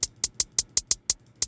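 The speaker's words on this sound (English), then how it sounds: "This is the closed hi-hat pattern." A closed hi-hat sample from Ocean's Mineral Pack, hi-hat 17, ticks in a steady crisp pattern of about eight short hits while panning from right to left in a tension hip hop beat.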